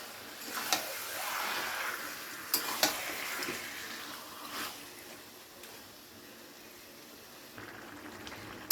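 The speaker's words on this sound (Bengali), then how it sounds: "মটনটা কালার চেঞ্জ না হওয়া অবধি কিন্তু এইভাবে অনবরত নেড়ে যেতে হবে" Mutton frying in spices in a pan while being stirred continuously, a quiet bubbling sizzle under soft scraping, with a few sharp clinks of the spoon against the pan.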